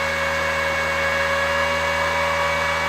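A Pocweld 200 welding machine switched on and idling, giving a steady electrical hum with tonal whine and a constant fan-like hiss, unchanging throughout with no voices.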